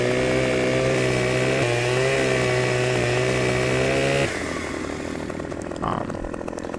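A stump chipper runs with a loud, steady engine drone and harmonic whine, shifting pitch as it bites, then turning rougher and more broadband partway through.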